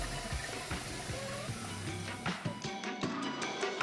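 Water fills a cooking pot and sloshes around inside it, a continuous close gurgling splash with irregular surges, set up for boba preparation.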